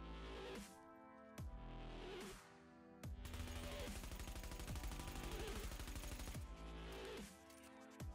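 Vector submachine gun fire in The Division video game: rapid automatic bursts, one long sustained stream of shots in the middle flanked by shorter bursts, loud and dense with heavy low-end thumps.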